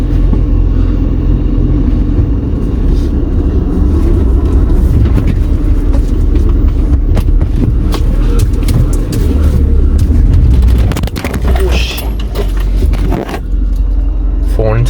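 A car is driven steadily, its engine and road rumble holding loud and continuous, with a few brief knocks and rattles near the end.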